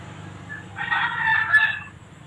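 One rooster crows nearby, a hoarse rising-and-falling call lasting about a second over low background rumble.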